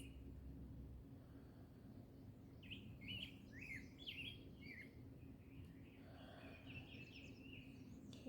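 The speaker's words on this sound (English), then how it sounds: "Do you hear the birds?" Birds chirping outdoors during a yoga session in nature, a series of quick, bright tweets and short calls scattered through the middle, moderately distant and faint over a low steady hum.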